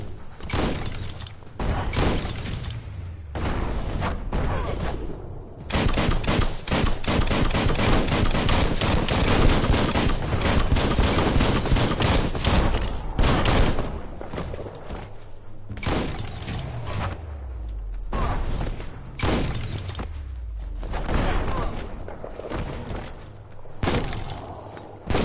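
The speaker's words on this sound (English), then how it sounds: "That's a bomb lobber." Explosions from a bomb-lobber enemy in Biomutant, a run of sharp, loud bursts with crackling debris and short gaps between blasts, some low booming tails trailing off.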